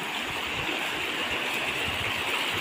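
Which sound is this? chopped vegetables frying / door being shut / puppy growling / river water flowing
river water flowing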